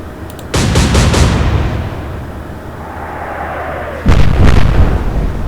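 Naval gunfire in the Atlantic Fleet video game: loud, close salvos of heavy cannon booms, one burst of several rapid shots followed by a long rumbling decay, then a second salvo.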